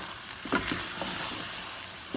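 Ghee sizzling in a hot pan, a steady soft frying hiss with faint crackles, heard close and quiet with no talking.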